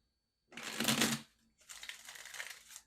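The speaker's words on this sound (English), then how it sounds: "I'm here on one more shuffle" Two close, crisp bursts of tarot cards being shuffled, the first short and dense, the second longer and riffling, separated by a brief pause with no voices.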